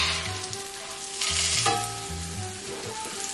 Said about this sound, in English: now I'm going to turn our fish